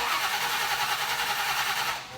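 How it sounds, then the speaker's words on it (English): Monster truck engine cranking over, a rapid pulsing churn that stays loud and steady before tapering off at the end, no talk. "It started. I barely even touched the key."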